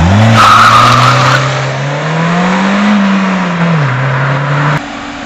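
A Citroën Saxo VTS hatchback on a race circuit in the south of France, its engine note rising and falling steadily as the tyres squeal through a corner, loud and close throughout.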